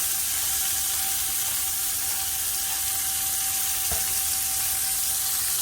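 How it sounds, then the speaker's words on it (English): Sprouts sauté in a pan with a sprinkle of pepper, producing a steady, even sizzle that holds from start to end. The sizzle is moderately loud and close, with a faint background hum and no talking. "we roll them around in that just to saute them, just to get a nice colour on them"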